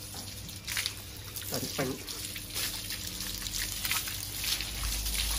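Water poured for a bath during an afternoon bathing session, splashing steadily in a few pours over a noisy background, with people talking over it.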